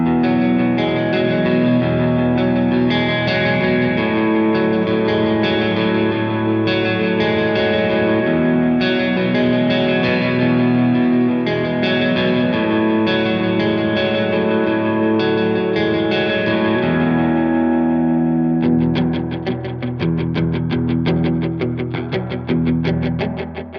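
A Boss Space Echo RE-2 delay pedal in reverb mode processes a loud electric guitar: sustained chords trail into echoing repeats and a roomy reverb wash, then rapid picked notes bounce back in quick repeats near the end.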